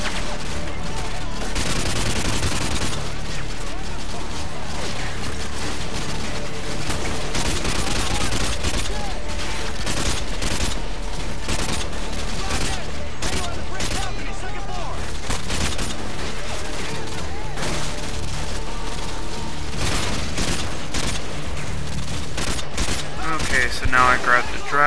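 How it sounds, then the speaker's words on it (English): Sustained AK-47 automatic fire in Call of Duty: Modern Warfare 2, loud repeated bursts and volleys running nearly nonstop, with a voice talking over the shooting. "So got the AK-47 killing some guys."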